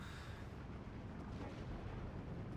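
An off-map artillery barrage in the strategy video game Steel Division 2, heard as a continuous faint rumbling wash of distant explosions with no distinct individual blasts.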